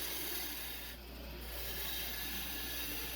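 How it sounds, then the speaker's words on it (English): A spindle gouge shaping wood for an urn on a lathe gives a soft, steady rasping hiss with a brief dip partway through, faint and close with no talking. "I'm going to get it shaped here, and again I'm still with the spindle gouge"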